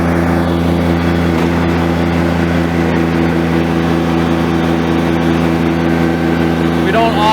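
A Kubota BX compact tractor drives a King Kutter XB tiller through garden soil and sod: a loud, steady engine drone with a constant low hum that stays close for the whole stretch, while a voice talks over it.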